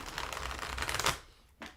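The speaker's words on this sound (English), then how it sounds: "And I start shuffling my cards" A deck of tarot cards being shuffled quickly and close up, a steady riffling flutter that ends in a brief tap.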